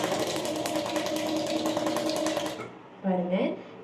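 A domestic sewing machine runs steadily at practice speed during a tailoring class, a continuous mechanical whir with rapid needle chatter that stops abruptly, followed by a brief voice.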